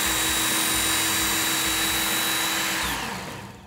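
Ken Onion knife sharpener running its abrasive belt while a knife blade is pulled through, a steady high-pitched motorized whine with grinding hiss that holds level and then winds down at the end, with no talk.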